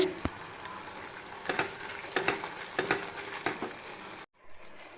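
Mutton mince being sautéed with sambar masala in a pan, a quiet sizzle broken by several sharp scrapes and knocks of a spatula, then a brief silence near the end.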